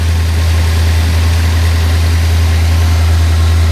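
A 1956 Ford Thunderbird engine idling just after starting, a loud, steady, low rumble with no variation and no talk over it.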